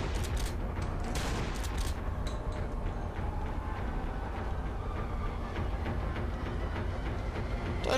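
Heavy, continuous gunfire fills the Cry of Fear horror game scene, rapid overlapping shots hammering loudly and densely for the whole stretch with a few sharper bursts early on, no voices over it.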